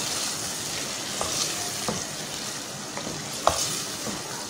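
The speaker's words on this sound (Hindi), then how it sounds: "थोड़ा सा इसको भूनेंगे मजीद।" Spices and whisked yogurt fry in a pan while being stirred, a steady soft sizzle with occasional light scrapes and taps of the spoon, close and alone without talk.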